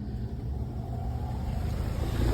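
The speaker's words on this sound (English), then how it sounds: "Fan turns on." Home AC condenser fan running, a steady low rumbling whoosh of moving air and motor hum, fairly quiet and continuous with no talking.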